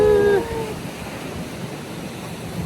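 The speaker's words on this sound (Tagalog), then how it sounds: "yung hampas siguro ng alon yun" Sea surf washes steadily onto the shore at Bolinao, Pangasinan, a broad continuous rush of waves with some wind, opening with a brief tonal sound before the surf continues alone.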